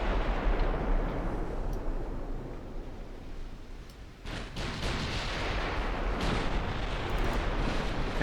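Warship guns firing in a naval video game, a continuous rumbling roar of distant heavy gunfire with a few sharper booms breaking through midway.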